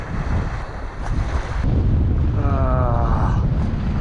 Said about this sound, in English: the waves are pumping